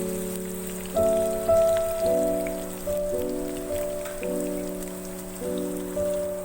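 Finely chopped garlic fries in a pan, a soft, continuous sizzle and crackle heard at a modest level throughout, with no talking.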